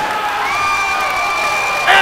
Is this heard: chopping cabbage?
no